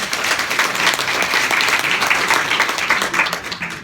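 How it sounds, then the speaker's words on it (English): An audience at a talk on paper clutter bursts into loud, steady applause, dense clapping that holds evenly for a few seconds. "could you please give her a round of applause for having the courage?"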